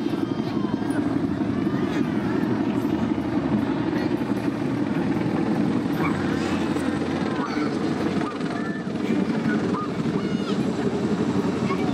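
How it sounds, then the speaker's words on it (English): A Chinook twin-rotor helicopter drones overhead in Singapore with a loud, steady rotor thrum and engine whine that holds constant without fading. "That's such an impressive helicopter, the Chinook. Such a distinctive sound as well."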